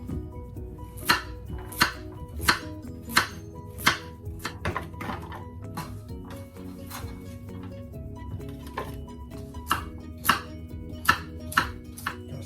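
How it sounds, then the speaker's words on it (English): Knife blade chopping carrots against a cutting board in a steady series of sharp chops, about two per second, over a low background hum. "I'm going to cut them up like that"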